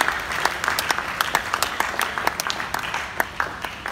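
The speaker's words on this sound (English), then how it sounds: "Hallelujah, you're clapping, you can clap for Jesus" Church congregation clapping during a Christian men's fellowship address, a few seconds of uneven, fairly sparse claps at close range with sharp individual hand strikes.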